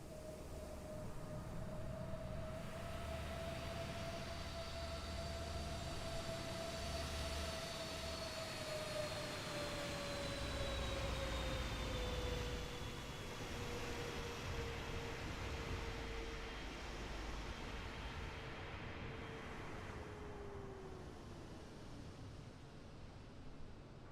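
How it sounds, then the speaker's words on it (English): A PMDG 777-200ER jet flying by in Microsoft Flight Simulator near Miami, a steady roaring engine drone with a high whine slowly sliding downward in pitch as the aircraft passes, heard alone and sustained. "That's really not that bad of a flyby sound"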